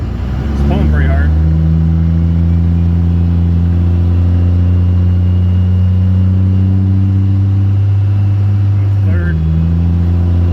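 A Cummins diesel truck fitted with 5x.022 injector nozzles pulls hard under heavy load: a loud, steady engine drone from inside the cab, with a brief gear change near the start and another near the end, and someone speaking over it.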